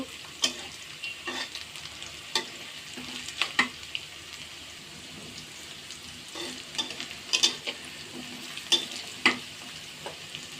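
Cloves and cinnamon with bay leaves frying in hot oil, a soft continuous sizzle broken by repeated spatula scrapes and taps at irregular intervals, close and moderately quiet, without speech.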